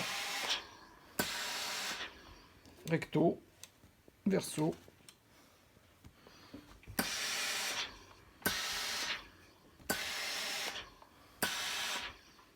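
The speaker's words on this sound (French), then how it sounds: "la centrale à vapeur sert à ça" A household steam generator blasts steam over disposable paper masks to sterilize them: several long, loud hissing bursts with pauses between, and a voice speaks briefly during the gaps.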